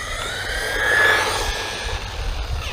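A Remo Hobby 1635 SMAX brushless RC truck running fast on a 2S lithium-ion battery, giving a steady high-pitched motor whine that rises and falls as it passes.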